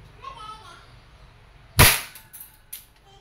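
One loud, close crack rings out from an all-metal M4 RIS gas blowback airsoft rifle fired through a chronograph, followed by a couple of fainter clicks.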